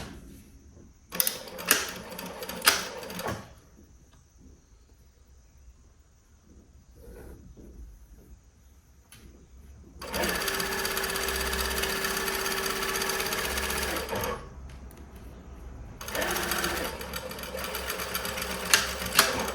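A sewing machine stitches fabric for a summer top in three loud, fast whirring bursts separated by quieter pauses filled with faint handling noises.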